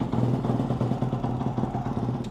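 A KOVE motorcycle engine fires up at the press of the starter button and settles into a steady, close, throbbing idle that runs for a couple of seconds.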